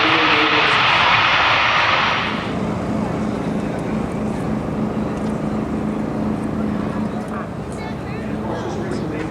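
The engines of a C-17 Globemaster III roar loudly at an air show at Joint Base McGuire-Dix-Lakehurst. A bright, heavy jet rush dominates the first couple of seconds, then settles into a lower sustained rumble beneath an announcer talking over the public address system.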